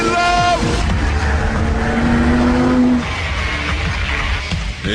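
A Lamborghini Gallardo Spyder convertible sports car driving hard, its engine loud and close with rising revs, gear changes and a sustained roar, plus some tire noise.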